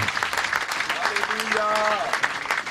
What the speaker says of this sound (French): Lève-toi et acclame le Seigneur très fort.